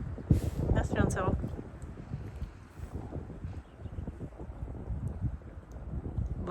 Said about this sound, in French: j'espère que vous allez m'entendre parce que là il y a du vent